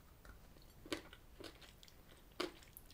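Hard candied sweet pieces in Fazer milk chocolate crunched between the teeth, giving two or three sharp, close bites amid quieter chewing, with no talking.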